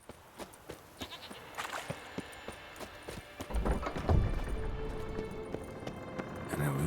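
Goats in The Witcher 3 bleat in short, fairly faint cries, mixed with hoof clops and game ambience that swell louder toward the end.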